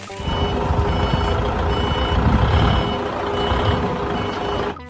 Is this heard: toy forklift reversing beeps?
yes